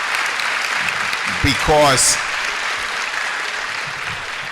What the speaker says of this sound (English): But I want to give those parents a round of applause for all you do